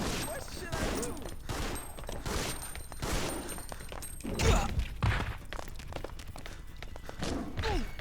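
Gunfire aimed at a boss in a Resident Evil video game, a dense ongoing clatter of shots and thuds that surges briefly in the middle, mixed under busy game sounds and occasional voices.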